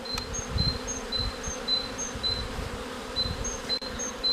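A steady drone of many honeybees buzzing close by at the hive, a dense insect hum with occasional higher whines passing through, no voices.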